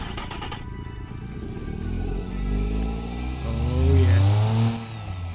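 Maruti Suzuki 800 with its mufflers removed revs up loudly and close, the engine note rising and falling in several swelling pulls, with a brief exclamation near the start.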